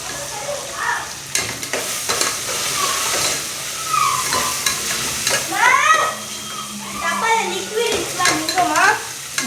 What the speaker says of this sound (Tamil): இந்த வெங்காயத்தையும் இதில் சேர்த்துக்கணும் ஃப்ரெண்ட்ஸ் நல்லா வதக்குங்க